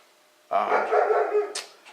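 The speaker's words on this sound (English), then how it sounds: "I'm sure you guys can hear that noise. That's my dog." A German Shepherd lets out a single drawn-out howling bark, close by, lasting over a second, then a short breathy sound.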